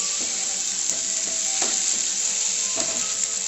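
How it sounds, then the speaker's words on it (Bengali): A prawn and jackfruit curry being sautéed in a pan gives a steady, close sizzle and fry with a few soft stirring scrapes, no voices. "এভাবে আস্তে আস্তে কষিয়ে নেব।"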